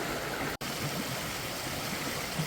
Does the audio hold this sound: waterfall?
yes